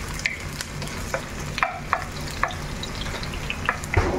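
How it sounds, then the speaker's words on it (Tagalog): Onions sautéing in a pan for pancit canton give a steady sizzle, broken by repeated sharp spatula taps and scrapes at an irregular rhythm, with no talk. "nilagay na natin yung sibuyas at igisa na natin"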